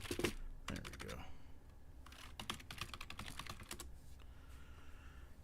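Close computer keyboard typing in bursts of rapid clicks, with a short pause between, while a person speaks faintly.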